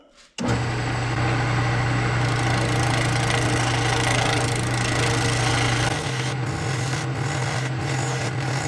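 A woodturning lathe spinning at 1400 RPM cuts into a resin and red cedar bowl blank, making a steady loud scraping whir with a low motor hum that starts abruptly and continues throughout, shifting tone slightly near the end.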